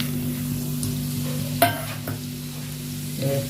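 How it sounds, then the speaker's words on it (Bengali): A torn dried red chili and whole cumin seeds fry in hot oil for a Bengali fish curry, giving a steady sizzle over a low constant hum, with one sharp clatter midway and a louder swell near the end. "তেলটা গরম হয়ে গেছে, এর মধ্যে একটা শুকনো লঙ্কা ছিঁড়ে আর দুটো গোটা জিরে দিয়ে দেবো।"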